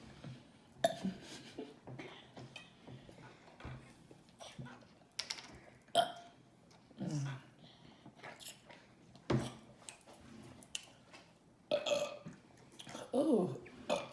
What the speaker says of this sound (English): That's some wet burps right there.